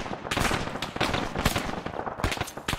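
Rapid bursts of rifle and light machine gun fire in the military video game Arma 3, sharp repeated cracks in quick volleys, loud and close with no talk.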